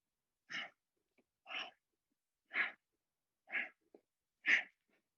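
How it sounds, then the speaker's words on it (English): Five evenly spaced nasal exhales during a yoga flow, each a short soft breathy puff about a second apart, close and quiet with silence between. "Breathing out through the nose."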